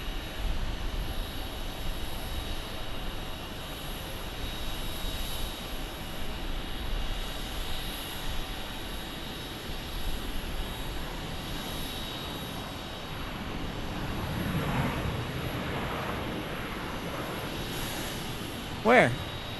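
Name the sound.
CRJ 700 airplane engines at Phoenix Sky Harbor airport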